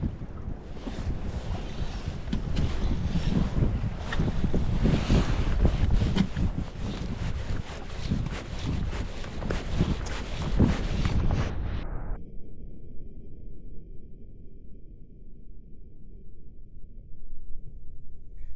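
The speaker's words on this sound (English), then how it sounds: "Wind's getting up again." Strong outdoor wind buffets the microphone by the water during trout fly fishing, a loud, continuous gusting roar that stops abruptly about two-thirds through, leaving only faint low background noise.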